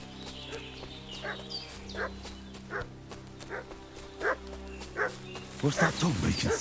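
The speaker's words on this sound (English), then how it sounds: "What's that dog making such a fuss about?" A dog barks repeatedly in Kingdom Come: Deliverance II, steady single woofs about every half second from moderate distance over a low ambient hum, with a burst of louder commotion at the end.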